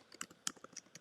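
Quick, light keystrokes tap on a computer keyboard in an uneven burst of clicks, close and fairly quiet, with no talking.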